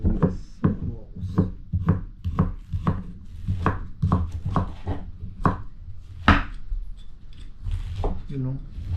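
Rapid, evenly spaced knife strikes chop onion very finely on a board, sharp close taps repeating steadily, with a voice talking over part of the run.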